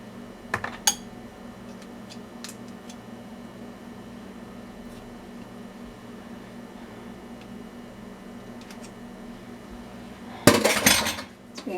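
A spoon scrapes and clinks in a bowl while brownie batter is prepared: a few sharp, close clinks at the start, a quiet stretch, then a louder burst of scraping clatter near the end.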